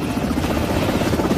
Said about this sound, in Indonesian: di sini ada helikopter Apache.